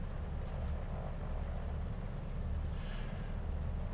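Twin radial engines of a Beech 18 idle near 900 RPM in Microsoft Flight Simulator, a steady low throbbing drone with a pulsing beat, continuous and fairly close inside the cockpit.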